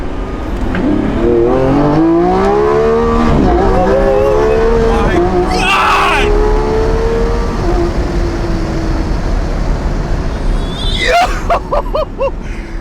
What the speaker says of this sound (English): First pull in the Revuelto in America. Let's find out what this thing can do.